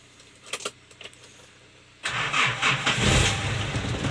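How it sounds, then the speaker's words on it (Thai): A 1991 Nissan Big-M pickup truck: keys jangle softly, then the engine cranks and catches into a loud, steady mid-pitched idle close by, with no talking. "เดี๋ยวขออนุญาตติดเครื่องนะครับ"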